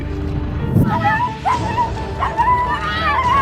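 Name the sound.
dog whimpering while rescued from a huge snake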